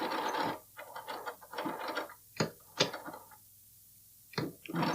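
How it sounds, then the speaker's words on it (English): A sewing machine back-stitches at the corner of a bralette with short, stop-start bursts of mechanical clatter and quiet gaps between them. "I'm going to do a little back stitch right there"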